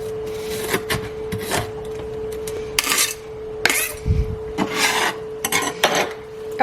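A knife strikes a cutting board in irregular clusters of sharp taps and rasps while half a white onion is chopped, close and fairly loud, over a steady low hum, with no voice.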